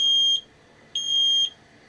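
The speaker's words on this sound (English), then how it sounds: "When the reservoir runs out of water, you'll hear a beeping sound reminding you to refill it." A Nurri Leva espresso machine sounds its low-water warning when the reservoir runs dry: two loud, steady high-pitched beeps, each about half a second long, separated by a short pause, close by in a quiet kitchen.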